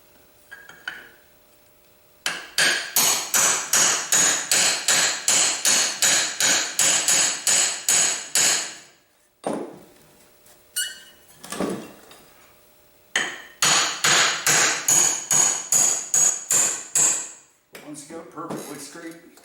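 Ball peen hammer tapping a connecting rod and piston assembly on a Quincy 325 compressor: rapid, sharp metallic taps in long rhythmic runs broken by short pauses, close and fairly loud.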